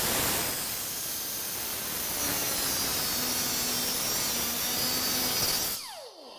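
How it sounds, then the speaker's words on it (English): A power tool bevels the edge of a fiberglass body at about a 45-degree angle, giving a steady, loud, noisy grinding hiss with a faint tonal whine that holds for several seconds and cuts off abruptly near the end. "we're going to go ahead and we're going to bevel this edge."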